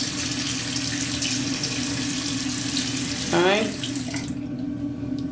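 Tap water runs steadily into a sink while a makeup brush is wetted, a continuous rushing stream with a brief gurgling change near the end and a short spoken word over it.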